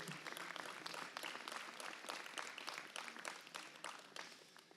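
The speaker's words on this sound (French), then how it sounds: "On peut les applaudir, hein." An audience at a municipal New Year wishes ceremony in Le Mesnil-Saint-Denis applauds the mayors and councillors, a sustained dense clapping that holds throughout, fairly full and close.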